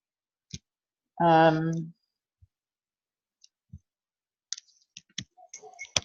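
Scattered sharp computer mouse clicks, single and in small clusters, sound close by in a quiet room, with a short burst of voice early on.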